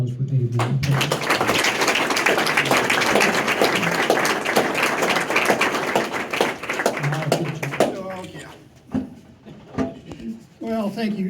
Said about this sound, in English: Another round of applause for Dave Wieland, please